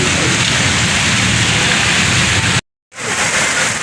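Heavy downpour in a nor'wester storm, a dense, steady roar of rain pounding surfaces up close, broken by one brief dropout of total silence before the rain resumes just as loud.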